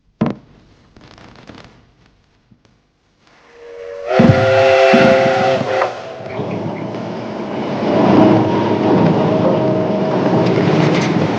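A steam train whistle blasts loudly, joined by the chuffing and rumble of the steam locomotive engine, after a few quieter sharp knocks at the start.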